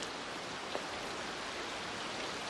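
Steady rain falling throughout in a Japanese film setting, a dense, even hiss of drops on surfaces with no voices, fairly quiet and constant.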